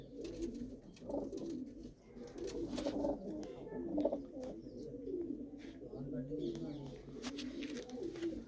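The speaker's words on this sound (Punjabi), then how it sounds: "ਦੇਖੋ ਪਰਿੰਦੇ ਬਹੁਤ ਹੀ ਸੋਹਣੇ ਸੋਹਣੇ ਪਰਿੰਦੇ ਨੇ" Pigeons in a loft at Mullanpur Kalan coo in soft, continuous low rolls, steady and close, with faint chirps over the murmur.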